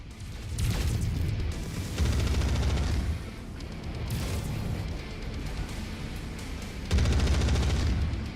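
A barrage of mech weapons in the video game MechWarrior 5: Mercenaries, several loud bursts of rapid fire and booming impacts in waves, with a final heavy salvo near the end over steady battle noise.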